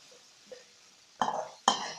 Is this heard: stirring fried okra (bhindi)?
yes